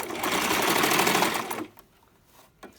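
A sewing machine stitching a closure wig runs in a steady, close, fast whirring burst for about a second and a half, then stops, leaving a few faint handling clicks.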